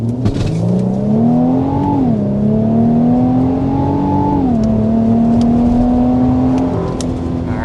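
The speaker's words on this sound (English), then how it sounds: "let's go ahead and start with a hard acceleration" A 2025 Infiniti QX80 under hard acceleration from the cabin, its engine note climbing steadily in pitch, dropping briefly at each gear change and rising again in a loud continuous drone.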